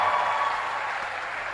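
A congregation at a Christmas church service claps steadily, a dense, even wash of applause lasting a moment and fading slightly.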